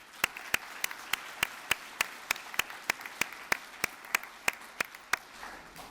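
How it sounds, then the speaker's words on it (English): Audience at a Rockingham Community College student awards ceremony clapping for students, heard as a faint, steady series of evenly spaced sharp claps rather than a full wash of applause. "If you'll please give them another round of applause."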